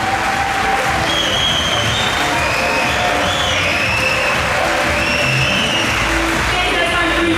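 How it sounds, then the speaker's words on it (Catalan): Loud, sustained applause from a large crowd, with scattered cheers and whistles mixed in, continuing steadily without a break. "Un fort aplaudiment, sisplau."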